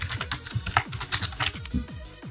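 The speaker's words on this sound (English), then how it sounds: "I'm going to go ahead and type in my information." Rapid, steady keystrokes on a computer keyboard, heard up close with no talking, as a song title and name are typed into FL Studio 20.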